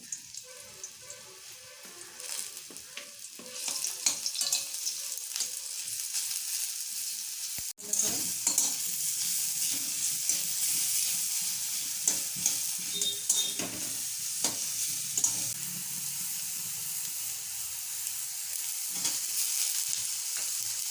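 Sattu frying in oil, a bright hissing sizzle that jumps louder partway through, with steady stirring scrapes in a quiet kitchen.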